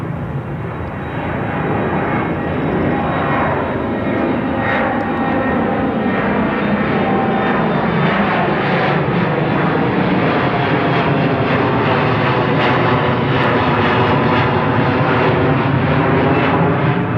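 A SkyWest jet departs Seattle-Tacoma International Airport with a loud, steady engine roar that holds close and constant throughout, with no voices over it.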